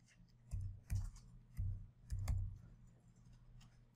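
The tab key on a computer keyboard is pressed in a few soft, separate clicks, faint and close, with short gaps between taps.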